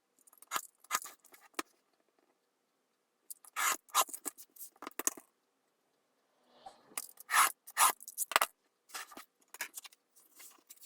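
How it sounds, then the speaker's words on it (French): The back of a craft knife scores fold lines into paper, giving several clusters of short, close scraping strokes separated by pauses, with no talking. "avec le dos du cutter, je viens marquer les plis"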